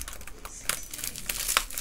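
Crinkly, sharp rustles and crackles as a foil Easter egg wrapper is pulled open by hand, several close bursts of crumpling in an uneven rhythm, alone without talk.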